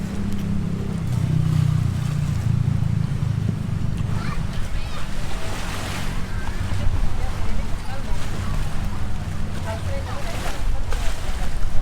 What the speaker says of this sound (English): I watch the speedboats busily going back and forth from the dock to the islands